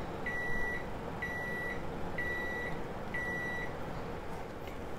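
A microwave oven beeps four times at an even pace after switching off, each tone short and clear over a steady low background hum, with no talking.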